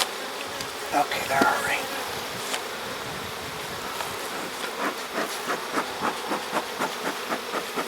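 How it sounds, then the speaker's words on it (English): Honey bees buzzing around a freshly opened, split hive, a dense steady drone up close with a brief voice speaking early on, then soft rhythmic tapping or handling sounds underneath. "Not a massive number of bees"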